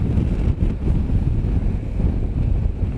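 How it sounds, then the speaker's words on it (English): Steady rushing wind gusting between trees buffets the microphone in a continuous low roar, with slight swells in intensity and no voices. "Sort of gusts in between the trees."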